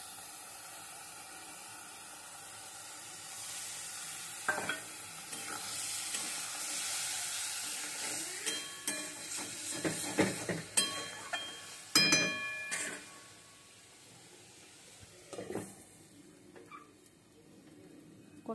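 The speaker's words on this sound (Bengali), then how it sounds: "পেঁয়াজ বাটা আদা বাটার লগে রসুন বাটার সাথে দিয়ে দেবো, দিয়ে কষিয়ে নেব।" Onion, ginger and garlic paste frying with garam masala in a pan, a low sizzle rising to bursts of spluttering and scraping stirs, then settling back to a faint hiss.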